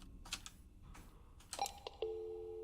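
Telephone tones in the video game Hemoglobin Project: a few short beeps like keypad dialing, then a steady, clear tone that holds to the end, fairly quiet, with no talking.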